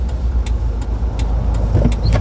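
A car pulls away after being put in gear during a driving lesson, with a steady low engine and road rumble heard from inside the cabin and a few faint clicks and knocks.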